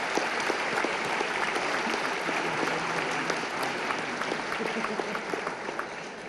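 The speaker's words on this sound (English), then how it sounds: "That is worthy of applause" Audience at an annual scholarship luncheon applauding, a loud, continuous wash of clapping with some sharp individual claps standing out, sustained evenly throughout.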